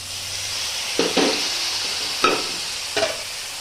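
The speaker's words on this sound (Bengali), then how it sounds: "কাশ্মীরি রেড চিলি পাউডার, হলুদ গুঁড়ো দিয়ে আবারও ভালো করে কষাবো" Mutton curry masala with Kashmiri chili and turmeric fries in a pan under a steady close sizzle, while a spoon scrapes and stirs in three or four distinct strokes.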